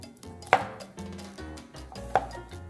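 A knife chopping garlic on a cutting board, with two sharp, close chops standing out over faint clattering and quieter cutting sounds.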